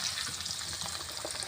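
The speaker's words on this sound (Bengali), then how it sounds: "আলুগুলো এবারে ভেজে নিই ভালো করে, একটু লাল লাল করে ভেজে নেব।" Potatoes frying in oil in a kadai (wok), a close, steady crackling sizzle with no voices.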